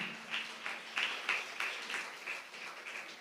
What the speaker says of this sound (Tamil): நல்ல கைத்தட்டி ஆண்டவருக்கு நன்றி சொல்லுங்களேன்.